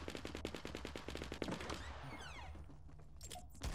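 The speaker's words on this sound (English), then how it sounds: "I hear shots over there." Rapid automatic gunfire in the Fortnite battle royale video game rattles off in a dense burst of sharp, evenly spaced shots, followed by scattered distant pops and game effects.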